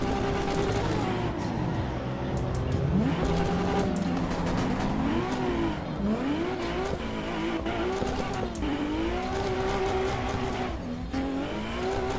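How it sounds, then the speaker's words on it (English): Race car in the game Assetto Corsa EVO spinning its back tires, engine revving up and down in repeated pitch swoops with tire squeal, continuous and close while someone talks. "Cooking those back tires, trying to get them hot."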